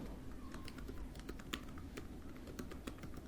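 Typing on a computer keyboard while working in Microsoft Excel 2016 produces quiet, close, irregular clicks and taps in quick bursts, with no talk over them.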